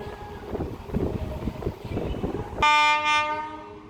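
Passenger train 211 waits at Bangkok station; a low rumble of the railcar is followed by a loud, sustained horn blast close by.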